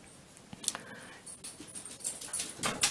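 A dog runs through a room, its paws pattering faintly on the floor in light, irregular taps that build toward the end, alone without talking.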